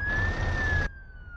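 Ambulance siren in the video game Euro Truck Simulator 2, heard as one steady wailing tone over road noise. The noise cuts off sharply partway through while the siren carries on more faintly.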